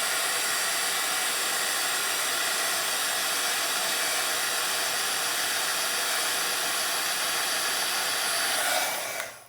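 A small handheld dryer blows steadily on wet watercolor paint, giving a loud, continuous whirring hiss that holds for several seconds before cutting off at the end.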